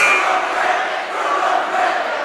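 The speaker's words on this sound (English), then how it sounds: "I'm sure you can definitely hear the chants from both student sections" Loud crowd noise fills a high school basketball gym as student sections chant during a Reagan versus Mt. Tabor game, a steady roar with no clear break.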